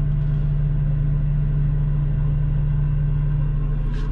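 Claas Xerion tractor engine idling with its rotor switched to low speed, a steady, loud, deep rumble with an even low hum running unbroken throughout.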